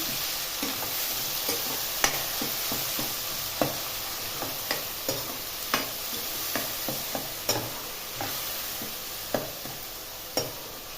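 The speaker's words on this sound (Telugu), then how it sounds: "ఇప్పుడు దీంట్లో కొద్దిగా కొత్తిమీర కొంచెం కరివేపాకు వేసుకొని పచ్చి వాసన పోయేలా బాగా వేగనిద్దాము" Steady sizzling of coriander and curry leaves frying in a pan, with a spatula scraping and clicking every second or so, no voices.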